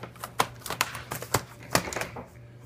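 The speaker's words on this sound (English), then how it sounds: "Put your keyboard back in." An HP EliteBook 8540p laptop keyboard being seated back into its chassis, giving a quick series of close, sharp plastic clicks and taps with brief pauses between them.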